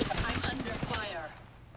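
Rapid bursts of gunfire in the Apex Legends video game, dense and loud across the first second, tailing off near the end, with voices mixed in.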